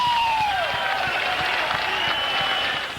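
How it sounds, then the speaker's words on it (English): A boxing arena crowd at the end of a Bobby Chacon super featherweight title bout cheers and applauds with a steady, dense wash of clapping and shouting that fades slightly at the end. "And the crowd reacts."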